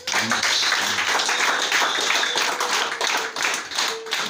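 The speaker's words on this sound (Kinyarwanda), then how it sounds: "Kongera dukomere Imana amashyi." A church congregation claps together, a dense run of hand claps close and loud for several seconds, with a few voices mixed in underneath.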